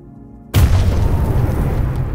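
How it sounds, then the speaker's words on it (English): In the video game Choo Choo Charles, a sudden, heavy explosion erupts after a short quiet lead-in, then a loud rumbling roar sustains and slowly fades with crackling debris. "Michael Bay explosions going on here."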